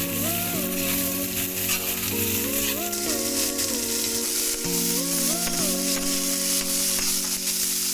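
Chopped onion and capsicum fry with cumin in a pan for kadai paneer, a steady bright sizzle running under prominent background music.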